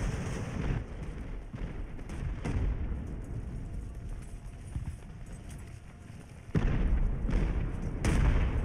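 Sailing-warship cannon fire in Ultimate Admiral: Age of Sail, several dull booms spread across the stretch with two stronger shots near the end, distant and fairly quiet over rumbling battle ambience.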